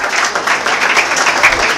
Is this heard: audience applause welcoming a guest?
yes